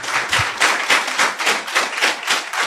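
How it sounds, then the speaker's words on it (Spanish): Auditorium audience in Nazca applauding at a UFO forum, a dense, steady wash of many hands clapping throughout with rhythmic swells, fairly loud and with no talk over it. "podemos dar un fuerte aplauso a todos los que nos siguen a través de las redes"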